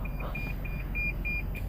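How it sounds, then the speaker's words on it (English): A nearby motorcycle gives off a rapid, regular electronic safety beep, heard from inside a 2015 Toyota Camry. The short, evenly spaced pulses sit faintly over a low, steady rumble. "Now what you're hearing right now is actually a beeping sound because I have a motorcycle that's"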